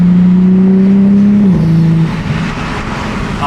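A loud car with an RK titanium exhaust revs with a steady deep exhaust drone, then the pitch drops as it shifts and settles into a rougher idle-like rumble.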